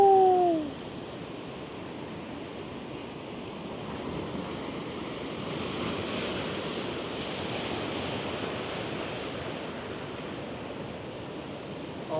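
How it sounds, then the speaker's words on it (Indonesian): Ocean surf off Simeulue, with waves breaking in a steady, broad wash of noise throughout, accompanied by wind rumble. A brief tonal chirp sounds at the very start. "Wih, itu ombaknya teman-teman."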